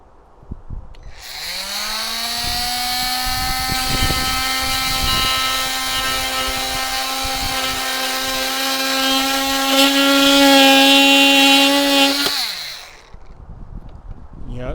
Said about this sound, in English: I'm going to switch over to the oscillating tool, which will cut this a lot quicker